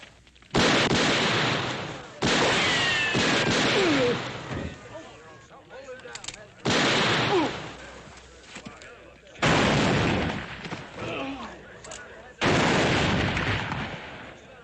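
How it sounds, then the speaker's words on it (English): Repeated loud gunshots in an old Western TV episode, about five sharp blasts spaced a few seconds apart, each with a long ringing decay, standing alone without talk between them. "That's enough shooting."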